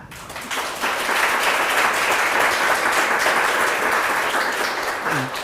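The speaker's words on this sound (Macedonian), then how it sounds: "сакам да ве замолам сами себе да си дадете аплауз" An audience at a circular economy academy demo day bursts into sustained applause, a dense wash of many hands clapping that swells after a second and holds steady, fairly loud and close, with no talk over it.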